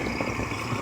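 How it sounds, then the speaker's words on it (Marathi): A tempo vehicle's engine rumbles steadily at close range on a rural road, a continuous low idling drone with no talk over it. "टेंपरेची गाडी आली"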